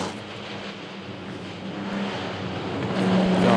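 Lotus Elan classic race car at a historic Le Mans endurance race, its engine note rising steadily as it approaches, with broadband roar growing louder toward the end; no voices.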